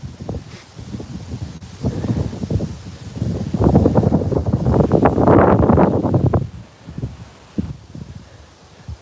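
Gusting wind buffets the microphone outdoors, building to a loud rush in the middle before easing back to a steadier blow.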